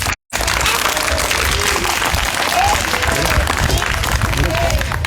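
Schoolchildren clapping loudly together at a government primary school event, a dense, energetic burst of many small hands that starts abruptly after a brief silence and continues steadily, close and loud, with some voices mixed in.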